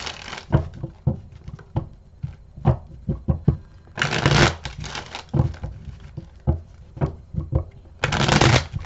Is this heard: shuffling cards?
yes